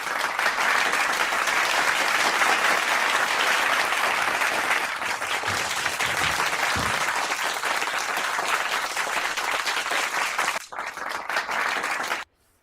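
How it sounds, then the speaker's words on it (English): Loud, sustained applause from a late-night show crowd, steady for about ten seconds, then dipping briefly and cutting off near the end. "Big round of applause."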